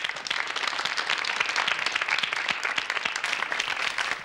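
Studio audience at a Russian television game show applauds steadily, a dense, even flutter of many hands clapping at moderate loudness for several seconds without pause.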